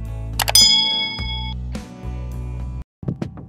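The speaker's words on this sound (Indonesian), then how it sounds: "bunyikan lonceng notifikasinya" A notification bell gives a single bright, ringing ding near the start, which fades over a steady low background tone.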